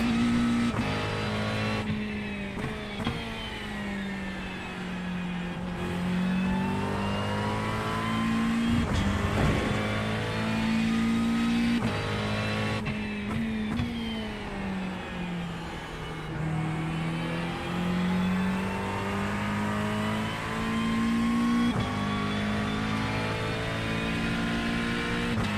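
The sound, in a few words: McLaren race car engine from a racing video game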